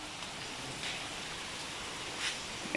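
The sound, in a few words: raindrops falling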